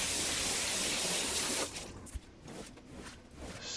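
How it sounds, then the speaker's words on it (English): A garden hose rinses a rug during carpet cleaning, giving a loud, steady broadband spray that runs for about a second and a half, then cuts to quieter, uneven splashing and dripping. "Now for a good old rinse down with a hose."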